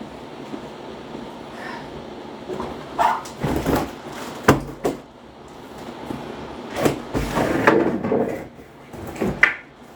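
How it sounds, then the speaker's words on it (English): A door being opened indoors, heard as a scatter of clunks, knocks and rattles spread over several seconds against quiet room tone, with no talking. "I'm just going to open my door."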